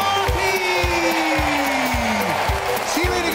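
An audience at a children's concert cheers and whoops over a beat-heavy song, dense noisy applause running under rhythmic music and a sliding vocal tone.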